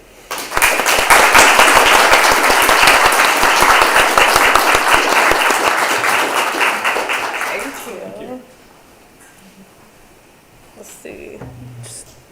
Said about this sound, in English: would everyone please give a big, warm round of applause to Sarah Everett.